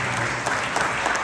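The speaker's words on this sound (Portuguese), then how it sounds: "aplausos para Cícero Cosme e" Audience at a poetry duel in João Pessoa applauds poets Cícero Cosme and Rogério Meneses, a dense, even burst of clapping filling the brief moment without talk.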